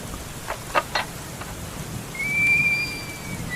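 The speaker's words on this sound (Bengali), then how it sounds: "লোকটা বুঝতেই পারেনি যে বৃষ্টি পড়ছে।" Rain falls in a steady soft hiss, broken by a few louder splashy bursts early on, while a thin whistling tone rises later over the downpour.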